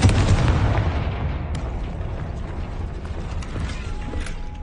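In Hogwarts Legacy, a Confringo fire spell blasts with a loud booming burst at the start, followed by a rumbling, crackling decay of debris and noise.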